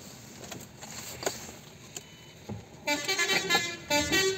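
A car horn honks nearby, a few faint toots early on, then a run of loud, repeated blasts in the last second and a half over low road rumble.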